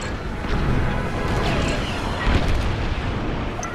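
An enemy starfighter is destroyed in the Star Wars Squadrons space-combat video game. A dense, rumbling explosion and crashing debris noise fills the whole stretch at a constant loud level, with a slight swell partway through.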